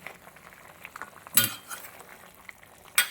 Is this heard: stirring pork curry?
yes